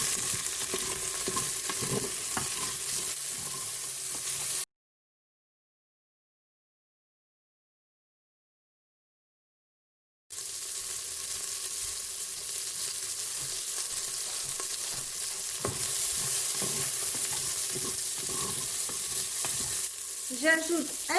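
Half an onion browning in a Cookeo multicooker for paella, a soft steady sizzle with occasional scrapes of stirring, broken by a stretch of complete silence midway before the frying resumes.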